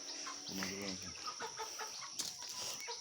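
Chickens being weighed and sold to a dealer cluck faintly in a short burst of rising calls, followed by quieter rustling and scattered handling sounds.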